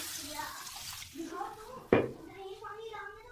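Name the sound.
soaked lentil water poured into pot of daal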